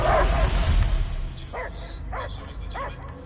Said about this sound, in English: I hear him barking.